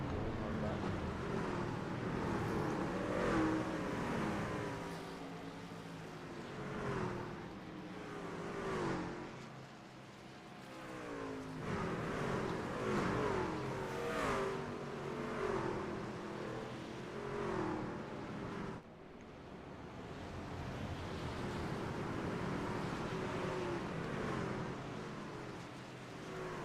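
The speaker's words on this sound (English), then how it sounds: "all these beautiful trucks going hard by" Race trucks roar around the turns at Michigan International Speedway in a steady, loud engine drone that swells and fades as the pack passes, with wind rumbling across the microphone.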